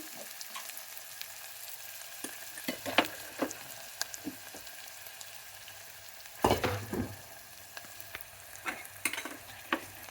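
Ingredients salted and frying in a pan for brown rice khichdi, a soft sizzle broken by repeated scraping and stirring strokes, with a louder burst of stirring midway; no talk.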